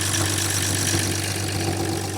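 An old collector car's engine runs with a loud, steady, rough growl, close and continuous.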